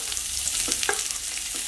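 Sliced onions sautéing with green chili and ginger in a hot pan for a Kannur-style kalmas snack, a steady close sizzle with a couple of brief stirring scrapes and no talking.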